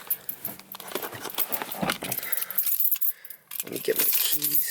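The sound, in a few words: car keys jangling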